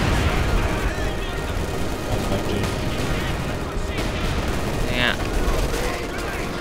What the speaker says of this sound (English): Oh, artillery on your side